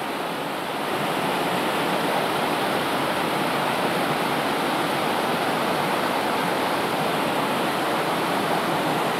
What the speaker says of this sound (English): You're looking at the cascades between the cave to come out of